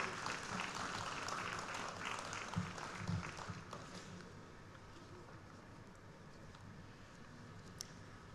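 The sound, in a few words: audience round of applause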